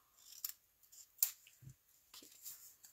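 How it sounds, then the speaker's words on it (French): Quiet, close snips of scissors cutting through paper, a few separate cuts with soft rustling in between and no voices. "Ça prend des bons ciseaux."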